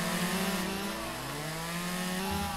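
Bushes being cut with a saw in the lumberjack game Lumberjack's Dynasty, a steady loud buzzing saw drone with shifting pitch that runs continuously and close up, with no talk over it.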